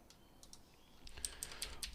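Keys on a computer keyboard are typed in a quiet room, faint scattered clicks that pick up into a quicker burst of taps toward the end, with no talking.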